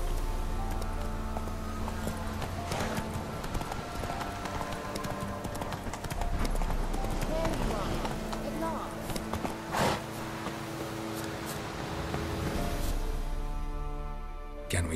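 Roach, a horse in The Witcher 3, clip-clops along with steady, close hoofbeats over a dense game soundscape of music and ambience, with occasional voices talking.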